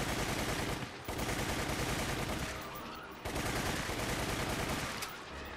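Shotgun and submachine gun fire in the Resident Evil game The Umbrella Chronicles, loud and dense with nearly continuous bursts of gunfire, one brief pause near the start and a lighter stretch midway, with no talk.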